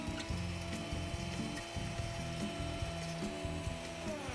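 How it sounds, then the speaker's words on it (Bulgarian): An electric mixer beats egg whites with sugar at a lower speed, a steady close mechanical whir with a rattling, ratchet-like texture that runs unbroken throughout. "Сега вече може и на по-ниски обороти да разбивам, докато смеся хубаво захарта и тя се стопи с белтъците."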